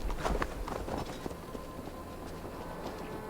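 Horse hooves clatter in the Viking-era video game Assassin's Creed Valhalla as a mount runs over ground, a busy, steady clip-clop beneath a wash of ambient game noise.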